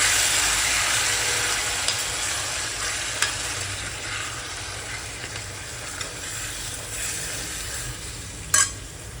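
Mutton sizzles steadily in hot oil and spices in a pressure cooker, a continuous crackling hiss with a few clinks of a stirring utensil.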